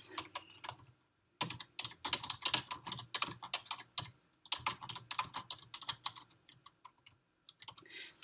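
Computer keyboard typing while building a Google Site, quiet bursts of rapid close key taps with brief pauses between runs.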